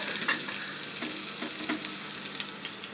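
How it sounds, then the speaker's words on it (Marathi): Crushed garlic cloves sizzle in hot oil for a Bombay duck curry, a dense, bright, steady frying hiss with small crackles and pops, close and continuous, without talk. "मी लसूणच्या पाकळ्या ठेचून घातलेल्या आहेत. असा चांगला आवाज यायला पाहिजे"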